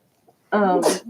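A person gives a single sudden sneeze, loud and close, with a sharp burst at the end, during a casual radio chat.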